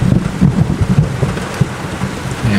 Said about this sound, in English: I think you should hear the thunder right now